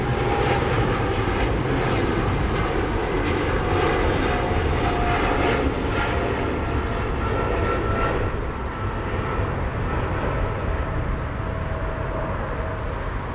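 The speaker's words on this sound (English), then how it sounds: "That's Air China cargo flight 8402 on its way to" An Air China cargo aircraft departs Frankfurt airport, its jet engines giving a loud sustained roar with a whining tonal edge that eases slightly toward the end.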